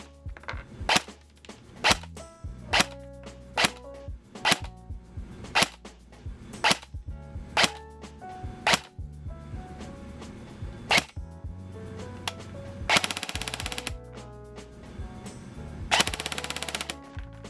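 An Elite Force VFC MP5A4 airsoft gun fires 0.20 gram BBs on an 11.1 LiPo battery during a chrono test, giving sharp single shots in an irregular rhythm followed by a couple of short full-auto bursts, close and without talk.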